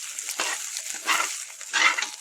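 A spatula scrapes and tosses yellow fried rice in a frying pan, three or four soft stirring strokes with faint sizzling between them.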